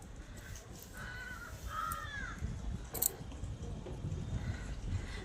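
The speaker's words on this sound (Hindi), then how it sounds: "बेचारे कौवे को प्यास लगी थी, पानी पी रहा था, मुझे देखा उड़ गया।" A crow near a backyard water dish caws a few times in quick harsh calls, moderately close against soft outdoor background noise.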